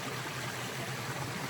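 Runoff stream from a pond along the Appalachian Trail, a creek flowing in a steady, even rush of water with no talk.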